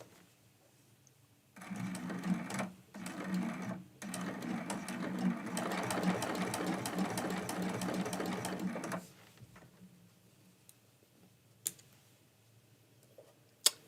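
A sewing machine stitches a Christmas quilt-as-you-go block in several close, steady bursts of rapid mechanical chatter, a short run, a pause, then a long continuous run, followed by quiet clicks.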